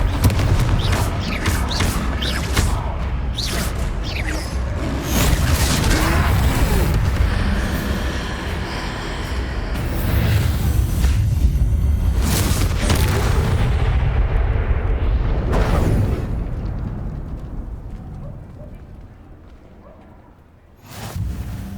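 Repeated Confringo spell blasts from Hogwarts Legacy during a troll fight, a dense run of loud booming explosions and crashes packed close together, easing off toward the end before a final burst.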